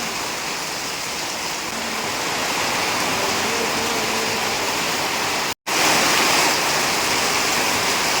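Heavy rain drums steadily on a tin roof, a dense, continuous wash of noise that stays loud and even throughout, broken only by a momentary cut near the middle.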